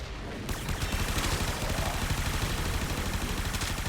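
The Supra Vandal fires in a video game in long sustained bursts of rapid automatic fire, loud and close and dense throughout.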